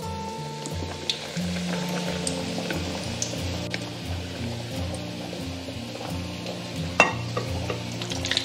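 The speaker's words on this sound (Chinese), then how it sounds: "接着我们就炸第2锅。" A second batch of oat-coated cucumber fritters deep-fries in oil over low heat, giving a continuous close bubbling sizzle with occasional sharper pops, and no talk over it.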